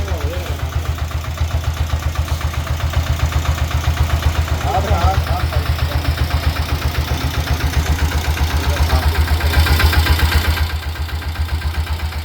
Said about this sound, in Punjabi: ਇਹਦੀ ਆਵਾਜ਼ ਹੈ ਜਨਰੇਟਰ ਦੀ ਤਰ੍ਹਾਂ ਆਵਾਜ਼ ਹੈ ਜਿਵੇਂ ਜਨਰੇਟਰ ਚੱਲਦਾ ਹੁੰਦਾ